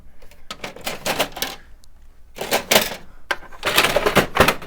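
Plastic clattering and scraping in repeated bursts as a tray is shoved and jiggled into a Brother PrintModa fabric printer, loud and close, with brief pauses between attempts.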